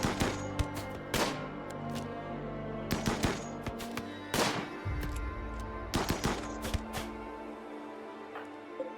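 Rapid video game gunfire from machine pistols and a revolver in RimWorld: sharp cracking shots in short bursts and single pops, some loud and close, with a low rumbling thud midway.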